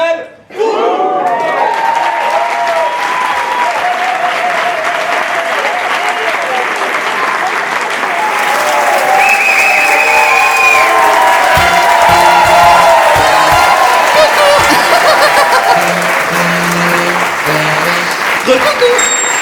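A theatre audience at a comedy show bursts into loud, sustained applause with cheers and whoops, a dense wall of clapping that swells and holds for the whole stretch.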